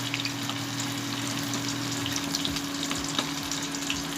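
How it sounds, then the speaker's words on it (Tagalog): Onion frying in a pan alongside a cooked eggplant omelette (tortang talong with tuna), a steady close sizzle with a low constant hum beneath it and a few soft stirring scrapes near the end. "ang niluluto na lang natin dito yung onion"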